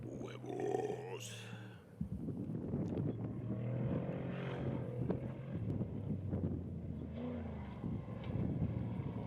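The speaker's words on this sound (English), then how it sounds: "Truck sounds good." A Ford ID Designs off-road race truck runs in staging at a Baja desert rally, its engine a rough, sustained roar under wind buffeting, with people talking over it.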